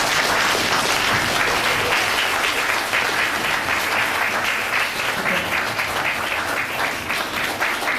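Dense, steady audience applause for a primary school choir from Brežice at a celebration of the 200th anniversary of the town's first school building, continuous and loud for the whole stretch.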